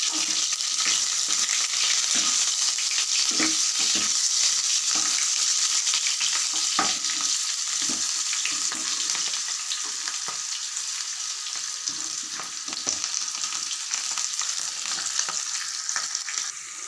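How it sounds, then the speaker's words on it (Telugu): Onions, curry leaves and nalleru fry in a pan with a steady, bright sizzle, while frequent spoon scrapes and taps against the pan mark ongoing stirring. "నల్లేరు కూడా వేసి బాగా వేయించుకోవాలి."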